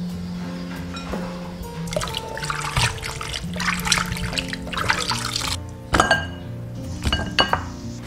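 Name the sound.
pork ribs being rinsed and washed clean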